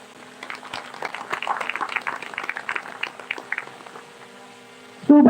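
Audience clapping welcomes a guest onto the stage at an Indian academy launch event, a moderate patter of many hands rising and then fading over several seconds before a louder burst at the end.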